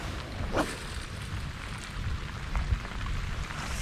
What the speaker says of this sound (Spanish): Como llueve